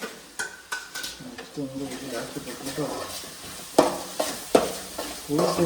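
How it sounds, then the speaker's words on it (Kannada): Onion and green chillies frying in a pan with ginger garlic paste for egg bhurji, a steady close sizzle with repeated stirring scrapes and clinks of a utensil against the pan. "ಈರುಳ್ಳಿಗೆ ಮೆಣಸಿನ್ಕಾಯಿಗೆ ಇವಾಗ ಶುಂಠಿ ಬೆಳ್ಳುಳ್ಳಿ ಪೇಸ್ಟ್ ಹಾಕ್ಬಿಟ್ಟು ಉರಿತಾ ಇದೆಯಾ?"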